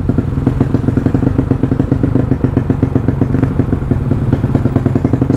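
Yamaha Mio scooter with a 200cc engine on a test ride, its engine revving loud and close in a steady, rattly drone with clattering mechanical ticks throughout, no voices.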